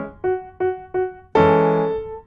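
A measure of a song on piano: three short repeated right-hand notes, then a fuller chord where both hands strike together and ring out, close and alone.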